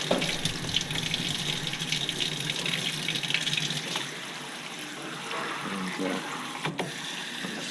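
Cold tap water runs over green beans as they are rinsed, a continuous splashing gush that shifts slightly in tone. A voice speaks briefly under the flow.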